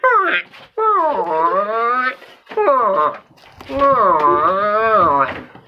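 A voice imitates a water buffalo with long, drawn-out lowing calls in several bursts, loud and close.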